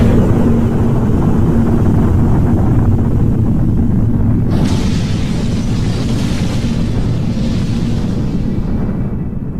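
Hydrogen bomb explosion: a loud, sustained, deep roaring rumble that fills the whole span, turning harsher and more hissing about halfway through before fading slightly, with no voices.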